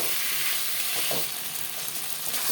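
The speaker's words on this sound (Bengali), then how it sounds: "দিয়ে দিলাম ভেজে রাখা আলু কটে মশলার সাথে ভালো করে কষিয়ে নিতে হবে" Fried potato pieces sizzle steadily in a pan while being sautéed with spices and tomato, a continuous close frying hiss with a soft stirring scrape partway through, no voices.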